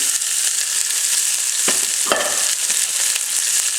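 Onion and celery hit a large pot heated over medium-high heat, setting off a loud, steady sizzle with a few sharper crackling bursts as the vegetables land and settle.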